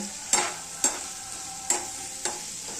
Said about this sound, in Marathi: आणि आता हा कांदा चांगला ब्राऊन कलर येईपर्यंत भाजायचा आहे.